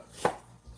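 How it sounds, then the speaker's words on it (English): A knife chops once through ingredients for a smoked chicken salad on a cutting board, a single close, sharp thunk followed by quiet. "And chop it up."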